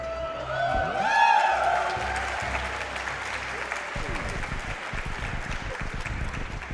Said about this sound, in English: 4 digits is the arbitrary amount for getting the audience to clap when it comes to donations right now